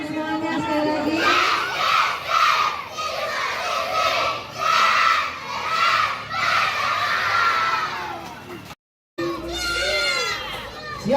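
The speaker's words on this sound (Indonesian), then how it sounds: "tepuk tangan semuanya sekali lagi" Schoolchildren cheering and shouting together in a loud, continuous crowd roar, with a brief cut of silence near the end before the noisy voices resume.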